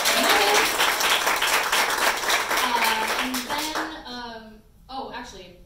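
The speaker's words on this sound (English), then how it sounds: "please clap for him" Audience applause at a piano bar, a dense burst of clapping mixed with chatter and clinking glassware, tapering off as voices take over.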